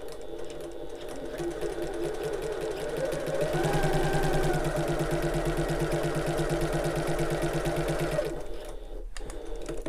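A sewing machine runs steadily, stitching a wallet with a fast, even mechanical whir and needle chatter that rises slightly mid-run, then stops abruptly near the end.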